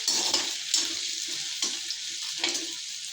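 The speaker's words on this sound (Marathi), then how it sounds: "तर बघू शकता तुम्ही बटाटे आपले फ्राय होत आहे।" Potatoes frying in a kadai for sabudana khichdi, a steady close sizzle broken by several scraping stirs at intervals, with no talking.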